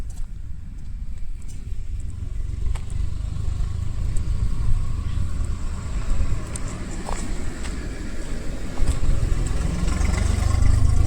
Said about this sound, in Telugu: ఇది భారీ యంత్రంగా ఉందన్నమాట చాలా పెద్దది అంతా హైడ్రాలిక్ మిషన్ అనమాట